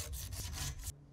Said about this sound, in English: it's easier to sand these using this long emery cloth while the pipe's a bit longer